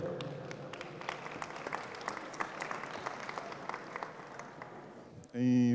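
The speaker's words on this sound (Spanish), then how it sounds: "Un aplauso para él," A crowd at a Smart City business event in Bogotá claps steadily for several seconds, a dense patter of applause that ends abruptly as a loud tone cuts in.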